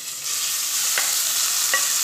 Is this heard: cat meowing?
no